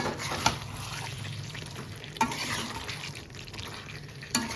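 Chicken and capsicum sizzle steadily in oil in a pan for a Christmas dinner, with a soft continuous hiss broken by a few sharp clinks of a utensil against the pan.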